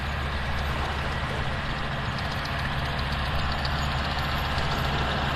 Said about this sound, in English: The tractor going by behind me.